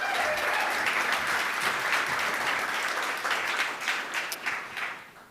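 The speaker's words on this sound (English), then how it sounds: "Big round of applause" Conference audience at a PyCon talk in Melbourne breaks into sustained applause, a dense wash of many hands that holds steady, then tapers toward the end.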